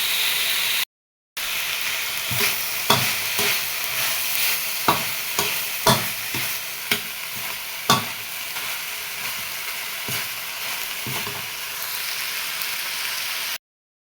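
Minced pork stir-fried with holy basil and dried chili sizzles steadily in a hot pan, with a series of sharp scraping clicks from the spatula tossing the mixture.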